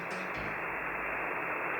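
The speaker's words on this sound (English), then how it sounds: "Some of these codes reference an actual radio frequency in Massachusetts, which sounds like this." Steady hissing static from an actual radio frequency in Massachusetts fills the clip, a dense wash of noise with a faint low hum underneath.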